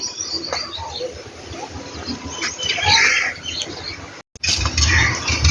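Outdoors, a pigeon calls amid chirping birds and general farmyard background noise, with a brief moment of silence near the end.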